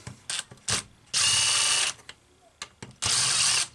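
Someone uses a hand tool to remove the muffler from a Homelite Super XL-925 chainsaw, making short ratcheting bursts and clicks followed by two longer, louder whirring runs, with quiet gaps between them.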